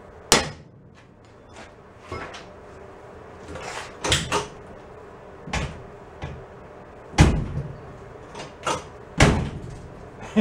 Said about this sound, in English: we'll give it a whack right there on the hinge and see if we can kind of just allow the door to go a hair that way more